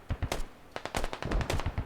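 Rapid bursts of gunfire and mortar fire in a war video game, sharp loud cracks in quick uneven volleys, close and dense, with no voices.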